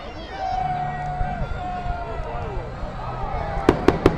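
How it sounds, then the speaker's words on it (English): A public fireworks display opens after a countdown, with launch whistles rising and sweeping for several seconds, followed by a rapid series of sharp pops and crackles near the end, heard at moderate distance. "So this will be a 14-minute display of fireworks tonight"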